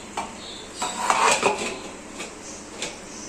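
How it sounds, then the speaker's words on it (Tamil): A metal pot lid lifted off a simmering country chicken curry on a low stove, giving a series of clinks and scrapes of metal against metal, close and fairly loud, with no talk. "இப்போ மூடியை திறக்கலாம்."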